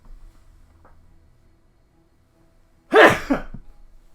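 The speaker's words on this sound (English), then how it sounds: "I'm going to sneeze in a second" A single sharp sneeze bursts out after a near-silent pause, loud and close, trailing off into a short breathy tail.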